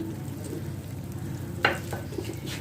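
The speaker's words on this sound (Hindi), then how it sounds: "इसको चलाएंगे, मीडियम फ्लेम रखिएगा, मसाला नहीं जलना चाहिए।" Salt, chili powder and turmeric being stirred as they fry in a pan over a medium flame, a soft steady sizzle with a few scraping stirs standing out near the end, close and alone.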